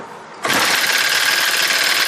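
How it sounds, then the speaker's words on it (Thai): A small agricultural sprayer engine with an intake valve opening too early starts up abruptly after a brief quiet moment, then runs at a fast, buzzy, even rattle, close and loud. "นี่เสียงเสียงไอดี"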